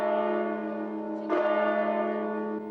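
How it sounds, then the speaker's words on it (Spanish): A deep church bell in Tudela, Navarra, rings with a long, humming resonance, a second strike adding to the ringing tone midway. "Cada una de las 48 campanadas que han resonado hoy en Tudela"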